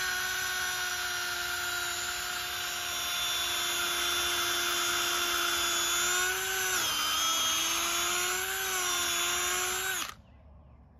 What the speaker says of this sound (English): I've got a drill, a hole through this post.